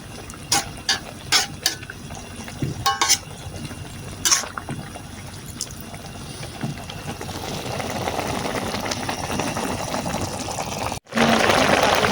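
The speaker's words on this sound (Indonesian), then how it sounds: "sekarang kita aduk kembali, lalu kita tunggu airnya sampai benar-benar surut" Wild mushrooms simmering in water in a pan, with a spoon knocking and scraping in short bursts early on, then a steady bubbling simmer that builds and continues, with no talking.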